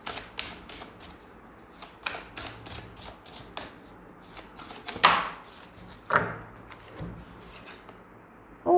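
A deck of cards is shuffled, giving quiet repeated riffling flicks and soft taps in an irregular rhythm, a few sharper snaps among them.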